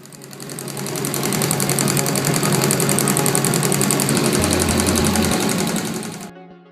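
A homemade horizontal Stirling engine runs steadily with a fast, even mechanical chatter and buzz that swells in, holds close and loud, then cuts off abruptly.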